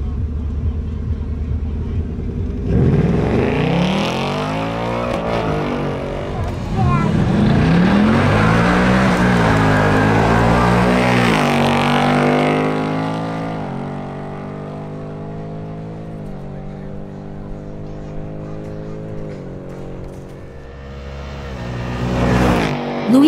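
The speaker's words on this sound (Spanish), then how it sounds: "Luis Vélez en su Ford Mustang GT realiza una nueva pasada." A Ford Mustang GT accelerates hard on a drag strip run, its engine note rising through several gear changes in a loud, close roar that fades as the car pulls away, with an announcer talking over parts of it.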